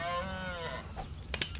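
A Dread Moose Cow lows in a video game, one long drawn-out moo that fades out, followed by a couple of short clattering knocks near the end.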